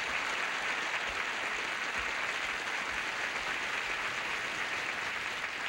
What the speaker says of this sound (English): I'd like for everybody in the audience to give you a nice round of applause and welcome you back.